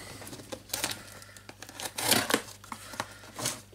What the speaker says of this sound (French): Attention avec la manipulation du scalpel, surtout pour ouvrir les cartons comme ça